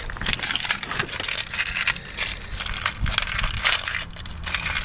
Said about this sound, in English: I got like a million keys